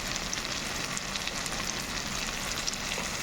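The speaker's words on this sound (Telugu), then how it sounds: "ఇప్పుడు నేను కారం వేసుకుంటున్నాను" Chili powder fries in hot tempering oil for a chana dal and potato curry, a loud, dense, continuous sizzle close by with soft stirring and no voices.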